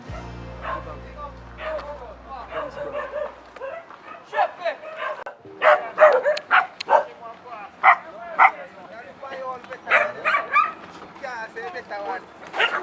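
Several dogs barking and yipping outdoors in a residential street, repeated sharp barks in irregular bursts, fairly close, with people talking over them.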